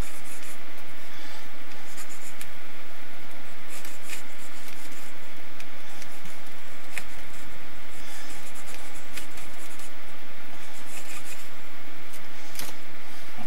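A pencil scratching across paper while laying in a background in an art journal, with continuous close, loud scribbling strokes and a few sharper taps, without talk.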